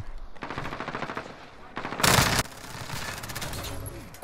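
Rapid automatic gunfire in the Call of Duty Warzone video game, bursts of loud crackling shots with a brief pause, a heavier surge in the middle, then continued firing.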